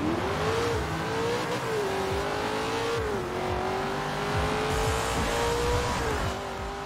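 A Chevrolet Camaro engine revs loudly in Forza Horizon 4, a continuous close muscle-car drone that rises and dips in pitch as the car accelerates, with no voices.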